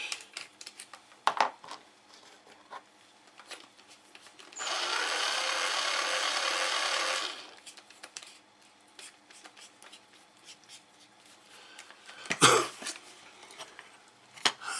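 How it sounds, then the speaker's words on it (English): A power drill whirs steadily for about three seconds, close up, driving screws into wood, between scattered knocks and handling noises. "Then you go on the other side, change the drill over."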